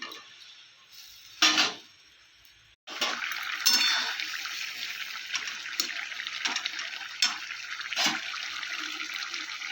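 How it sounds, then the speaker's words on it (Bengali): A little water is splashed into a pan of fried chili paste, salt and turmeric, then a loud, steady sizzle and bubbling follows with a few clinking stirs. "একটু জল দিয়ে দেব হালকা করে"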